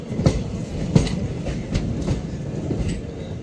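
An express train at a station on the Varanasi route rolls past with rhythmic clickety-clack of wheels over rail joints, a series of sharp, evenly spaced knocks over a steady rumble.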